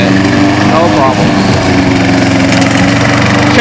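A remote-controlled RCLM S Class lawn mower with a gas engine cuts thick two-foot grass, making a loud, steady engine drone with a faint voice beneath it.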